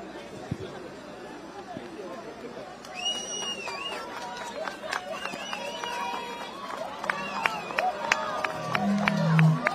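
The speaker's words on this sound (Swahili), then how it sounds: "naomba tumpe makofi mazuri anapokaribia upande ule mwingine" A crowd at an outdoor Nairobi Rivers engineering launch cheers and chatters as the president approaches, with scattered whistles and shouts rising toward the end over a steady murmur.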